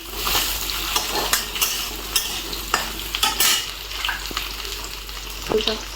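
Potatoes sautéing in a pan, a steady sizzle with repeated scraping and stirring clatter from a utensil throughout, close and moderately loud, no talking.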